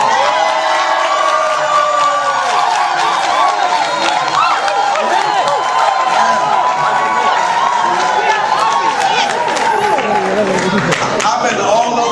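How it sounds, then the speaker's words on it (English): A presentation audience in the UK bursts into sustained applause mixed with cheering and whoops, a dense, loud crowd roar holding steady throughout. "I never got an applause like that"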